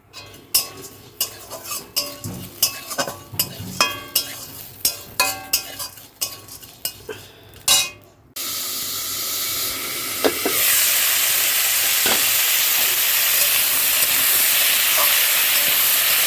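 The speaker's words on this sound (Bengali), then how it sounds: "এখানে দেখো মিষ্টি কুমড়া পেঁয়াজগুলো ভাজা" Pumpkin and onion fry in a pan. First comes a run of rhythmic, close spatula clinks and scrapes as the pieces are stirred, then a loud, steady sizzle that keeps going to the end.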